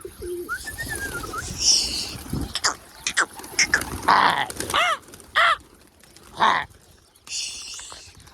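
Pigeons coo and call close by in a series of rising, warbling coos. Soft background noise fills the gaps between calls.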